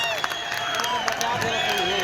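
A wrestling-match audience claps and cheers in a steady, close crowd roar at a kushti bout in Solapur, Maharashtra, with voices mixed in throughout.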